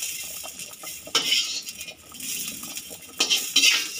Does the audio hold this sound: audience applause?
no